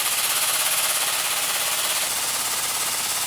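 A homemade pneumatic air bender actuates with a loud, continuous hiss and rapid mechanical chatter, close up, easing after about two seconds while the air noise carries on.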